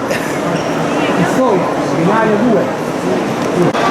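Crowded Florence railway station hall fills with a steady, loud wash of overlapping voices and echoing footsteps, a dense murmur with no pause throughout.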